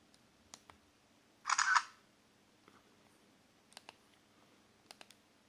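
A Sony Ericsson K310i phone camera fires one short electronic shutter sound, crisp and close, followed by faint scattered button clicks in an otherwise quiet room.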